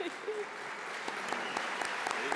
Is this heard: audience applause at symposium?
yes